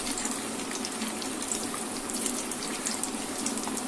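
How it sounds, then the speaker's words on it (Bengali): Pieces of chhena fry one at a time in hot oil in a pan over a medium-low flame, giving a steady, close, continuous sizzle with no voices. "গরম তেলে এগুলি ভাজা করে নেব, একটা একটা করে ভাজা করতে হবে।"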